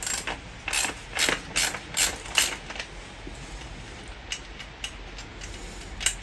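A ratchet wrench clicks in quick bursts while loosening the headlight bucket on a 1973 Honda CB350 Four, close and sharp at first, then lighter, scattered ticks toward the end.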